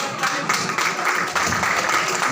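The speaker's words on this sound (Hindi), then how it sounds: "जोरदार तालियों से अभिनंदन करते रहे।" Loud audience applause fills a hall at a Hindi-language community gathering honoring Babasaheb's vision, steady dense clapping throughout the short stretch with no talk over it.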